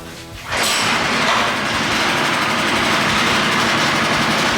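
A Predator 212 small engine on a powered trailer fires up after a brief quieter moment, then runs loud and close with a steady, buzzing drone.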